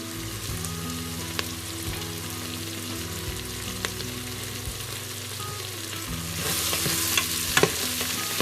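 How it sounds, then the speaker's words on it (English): Chilli, onions and garlic sizzle steadily in a pan for lamb pilau, a constant crackling fry with a few stirring scrapes and a brief louder flare near the end, no voices. "onions and garlic in there now. Allowing that to just brown up a little bit."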